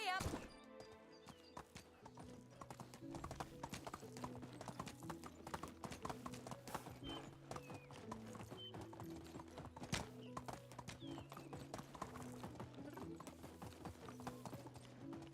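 Steady clip-clop of horse hooves as a rider travels on horseback in the video game Medieval Dynasty, a continuous even trotting rhythm with faint music or ambience underneath.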